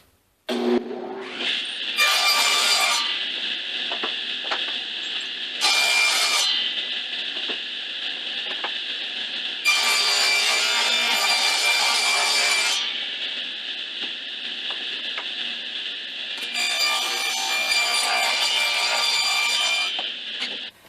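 A power saw cuts through plywood guided along a fence in a woodshop, sounding in four separate loud, steady bursts of high rasping whine with short quiet gaps between passes, and no one talking.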